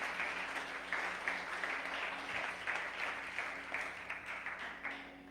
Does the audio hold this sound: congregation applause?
yes